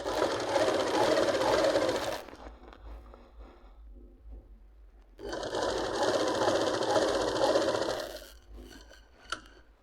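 A pedal-driven sewing machine stitches a palazzo pant in two loud, steady whirring runs, the first about two seconds long and the second about three, with a quiet pause between them.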